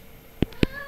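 A house cat gives two short, close meows about a fifth of a second apart, loud against a quiet indoor background.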